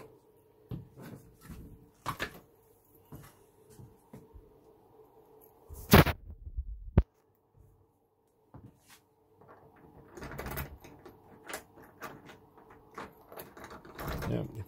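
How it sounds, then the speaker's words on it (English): Keys are tried in a new closet doorknob lock, giving scattered small metallic clicks and rattles, a sharper clack near the middle, then more jiggling and fumbling. Brief quiet talk comes and goes around them. "let's see if the keys work."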